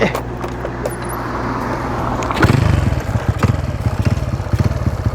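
Honda Wave 125 motorcycle being ridden, its small engine idling and then revving up into a loud, pulsing, close-up drone that keeps a rapid rhythmic beat.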